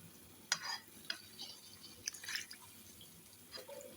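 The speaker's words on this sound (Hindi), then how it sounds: "और अच्छी तरह से मिक्स करेंगे।" A spoon stirs aloo keema, minced meat with potatoes, in a pot just after water has been added, giving scattered wet scrapes and light clinks spaced irregularly over a quiet background.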